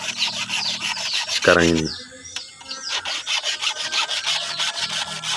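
A file rasps across the teeth of a rusty hand saw in quick, even back-and-forth strokes, close and loud, with a brief scraping pause partway through and someone speaking briefly.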